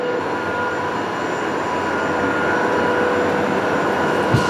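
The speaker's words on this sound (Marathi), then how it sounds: "बम आवाज आहे इथं पंपायचा." Loud, steady mechanical drone of large water pumps at a temple lake, a continuous hum and roar that holds level throughout with no talking.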